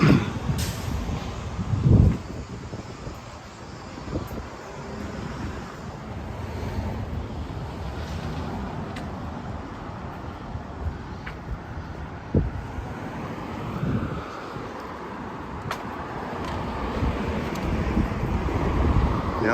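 Strong wind buffets the microphone while someone walks eastbound along a city street, a constant roaring rush with heavier gusts thumping in at intervals.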